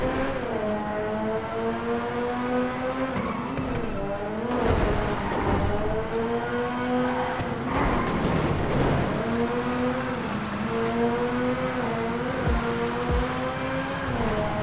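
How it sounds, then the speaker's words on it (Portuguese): A battered, bullet-riddled Ford Focus drives in GTA V. The engine hums and revs steadily, with its pitch rising and falling through gear changes, and there are a few louder bursts of noise along the way. "Mano, quem tinha que tá dirigindo é o Franklin, né, que é piloto"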